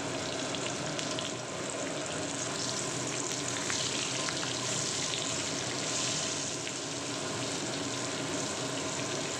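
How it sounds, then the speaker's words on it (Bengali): Pointed gourd pieces frying in oil in a pan over a medium gas flame, a steady, even sizzle that holds at a moderate level throughout with no talking. "এবার এই তেলের মধ্যেই আমি পটলগুলো ভেজে নিচ্ছি।"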